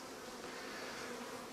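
Dense, continuous buzzing of many honey bees swarming close by in a beeyard, a steady humming drone without breaks.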